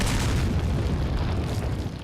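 A deep, rumbling dynamite blast in Resident Evil 4 fills the whole span, loud and sustained with heavy low-end roar that slowly begins to fade.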